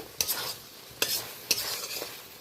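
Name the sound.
spice paste frying in oil while stirred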